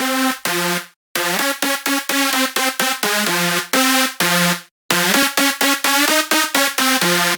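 Big room lead synths playing a punchy staccato riff in FL Studio with mixing plugins switched on one by one, bright and loud with short gaps between phrases, growing fuller as it goes.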